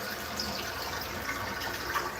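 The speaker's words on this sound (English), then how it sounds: "That's the flush." A toilet flush rushes and gurgles in a toilet fish tank, a steady watery swirl of moderate loudness running for a couple of seconds.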